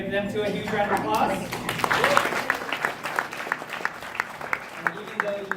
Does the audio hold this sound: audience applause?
yes